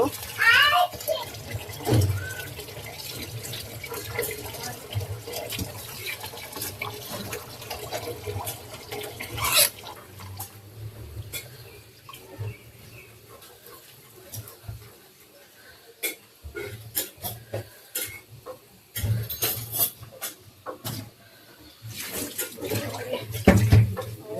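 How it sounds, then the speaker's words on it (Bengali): Cut carrots and broccoli rinsed under running tap water in a sink, with continuous splashing and intermittent clattering as the vegetables are handled, while voices, including a child's, talk over it. "সবজিগুলাকে এখন ধুয়ে নিব"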